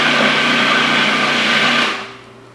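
A Cuisinart food processor grinds hummus ingredients, a loud close steady whirring motor that runs about two seconds and then winds down.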